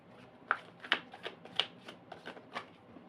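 Tarot cards being shuffled by hand, a series of soft, quick riffling flicks in a steady rhythm, close and quiet with no talk over them.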